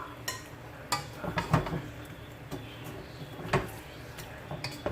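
A spoon scrapes and clinks against a pot while ketchup is stirred into Jamaican-style brown stew chicken, giving a few sharp taps and scrapes over a soft background hiss.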